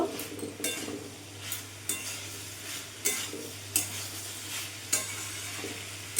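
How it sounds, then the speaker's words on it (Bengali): A spoon scrapes and stirs soybean curry in a pan over a raised gas flame, the thick masala sizzling softly beneath a steady low hum, with about eight distinct scraping strokes recurring in a loose, unhurried rhythm. "এবার এইভাবে একটু নাড়াচাড়া দিয়ে আমি আরও পাঁচ মিনিট কষিয়ে নেবো"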